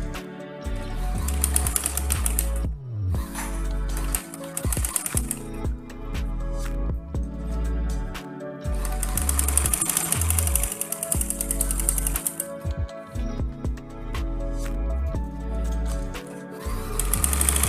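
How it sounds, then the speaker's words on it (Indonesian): A sewing machine stitches an asymmetric blouse in loud, close bursts of rapid mechanical whirring, separated by short pauses as the fabric is repositioned. "Setelah kita jarumi, langsung saja kita jahit."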